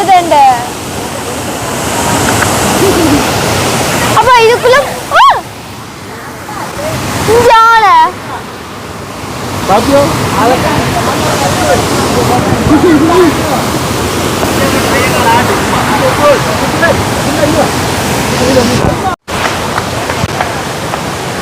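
Steady rushing water fills the whole stretch, loud and close, with people talking and calling out over the constant roar.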